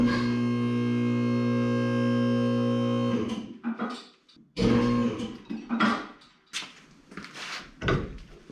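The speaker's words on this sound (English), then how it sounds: "now I'm going to run the lift up to get these a lot closer" A shop vehicle lift rises under a 1983 Chevy square-body truck: a steady motor hum for about three seconds, then it stops and irregular metallic clanks and knocks follow.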